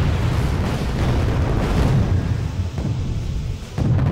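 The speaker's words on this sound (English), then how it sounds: "Just listen to that cannon fire." Heavy booming cannon blasts in the video game Wargame: Red Dragon roll together into a continuous, loud, low rumble of distant and near explosions.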